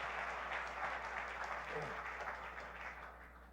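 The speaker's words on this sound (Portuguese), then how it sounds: "Vamos aplaudir o Senhor com muita alegria pela vida das nossas crianças." Church congregation at a missionary conference applauding in celebration of its children, a steady wash of clapping at a moderate distance that slowly fades toward the end.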